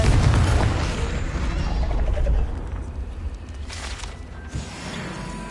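In Hogwarts Legacy, a Confringo fire curse bursts with a deep, heavy boom, then leaves a softer crackling fizz that trails away.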